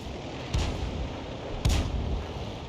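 Tank cannon fire in a tank video game, two booming shots about a second apart over a steady background hum of engine and ambience.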